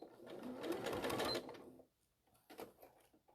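Sewing machine stitching a crazy patchwork piece, a steady close whirring run lasting well over a second, then stopping, followed by quieter handling sounds with a brief later burst.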